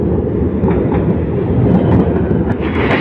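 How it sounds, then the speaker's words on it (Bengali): A train rolling past close by, a loud steady rumble with rhythmic wheel clatter lasting the whole stretch, no voices. "আর দেখো ট্রেনটা ঢুকছে"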